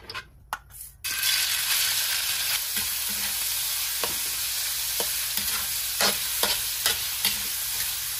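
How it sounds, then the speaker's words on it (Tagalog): Pork dropped into hot cooking oil for pancit chami bursts into loud, close sizzling after a few opening clinks, then keeps frying steadily with occasional spatula scrapes and taps. "Kapag mainit na po yung ating mantika, ilagay na natin yung ating pork."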